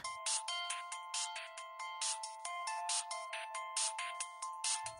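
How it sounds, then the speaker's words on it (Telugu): A bright, repeating electronic ringtone melody plays continuously, a quick chiming pattern of notes that loops steadily, fairly faint. "నందుబాబు ఫోన్ చేస్తున్నాడే."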